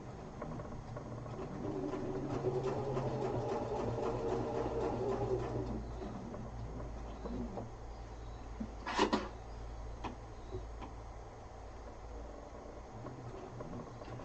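A sewing machine runs at a moderate, even pace while stitching the corners of a quilted duffel bag, a soft continuous whir with a sharp click partway through and quieter handling noises.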